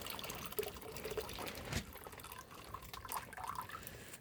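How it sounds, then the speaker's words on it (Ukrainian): Water pours in a soft, continuous trickle, faint and close, with small splashes and drips. "пролью такою теплою-теплою водою"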